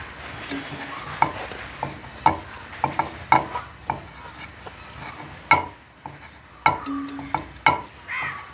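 Bhatura dough frying in hot oil for chole bhatura, with soft bubbling sizzle punctuated by repeated sharp clinks and scrapes of a utensil stirring and turning the bread in the pan, close and moderately loud.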